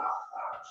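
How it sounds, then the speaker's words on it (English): Dogs barking indoors, a short faint yelp or bark at a distance, brief and soft. "apologize for the dogs"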